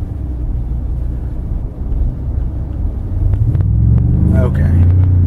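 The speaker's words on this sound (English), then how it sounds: "We're about to get on to the highway and see just how strong this thing really takes off." A 2015 Ford F-150 Platinum pickup accelerates onto a highway, a close, steady engine and road rumble that swells louder and deeper toward the end as power comes on, with a few brief knocks in the cabin.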